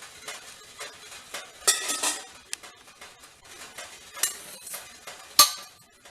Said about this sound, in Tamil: இப்போ நம்ம இட்லி ஊற்றி வைக்கலாம்.